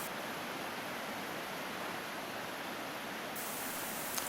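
The Taylor River running high in early spring, a dense, steady rushing roar of water that stays loud and unbroken throughout, with no voices.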